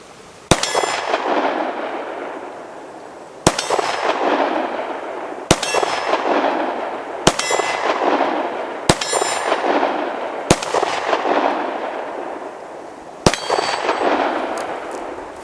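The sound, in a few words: bullets striking steel shooting targets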